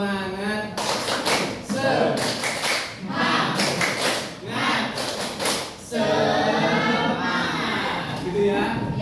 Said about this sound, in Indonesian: Kita akan tepuk semangat namanya.